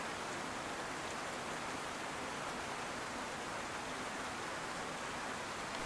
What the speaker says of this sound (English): I've got my headset down because the rain's so loud.